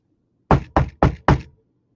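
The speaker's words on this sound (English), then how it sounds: "Knock on wood." Four quick knocks on a wooden surface, evenly spaced and close, sharp and loud against a silent background with no talking.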